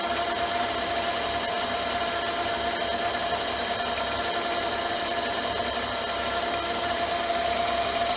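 A mini lathe turns steadily at 450 RPM with a constant whine and a strong tonal hum, loud and unbroken throughout, with no talking.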